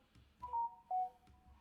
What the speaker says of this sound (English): my phone keep going off